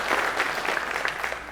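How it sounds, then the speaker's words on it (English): Hall of fame induction ceremony audience claps warmly for the organizer, a short, full burst of dense applause from a seated crowd heard on its own. "Give that guy a round of applause right there for making this all happen."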